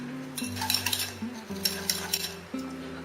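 Butter and sugar whisked together in a bowl for an eggless cake, a steady scraping and clinking of the whisk against the bowl with brief sharper taps, close and moderately loud, with no one talking.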